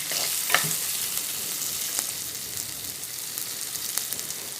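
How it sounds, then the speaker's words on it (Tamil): Garlic, red chillies and salt sautéing in oil in a clay pot, a steady close sizzle with a few soft stirring scrapes. "சிகப்பு மிளகாயும் சேர்த்துட்டு உப்பு போட்டு கொஞ்சம் எண்ணெயில் வதக்க போகிறேன்"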